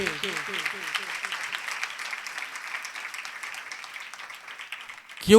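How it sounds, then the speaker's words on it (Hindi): A church congregation claps steadily at a Sunday service, moderately loud and continuous, with a brief voice or music phrase at the start and a sharp sound at the very end. "मैं चाहूँगा एक दफ़ा आप अपने खादमों के लिए भी ताली बजाएं"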